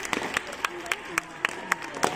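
Audience at a school annual sports day clapping in a steady, evenly spaced rhythm, each sharp clap distinct and moderately close, with faint voices in the background.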